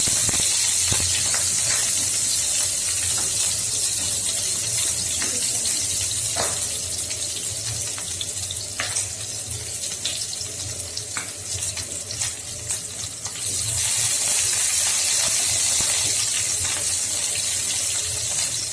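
Chopped onion dropped into hot oil for a lentil and cauliflower curry hisses and sizzles loudly and steadily, with a few sharp crackles and pops throughout and no talk.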